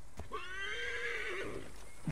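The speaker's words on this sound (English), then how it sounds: "Wait, can I call my horse here?" A single horse whinny in Assassin's Creed Origins, rising then holding a wavering high neigh before fading, heard alone over a low background rumble.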